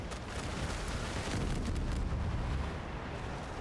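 Pair of 9-inch mortars firing in a pirate naval battle game, a dense continuous rumble of booming blasts and explosions rolling together, loud and close, without speech.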